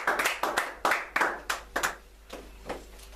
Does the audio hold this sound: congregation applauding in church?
yes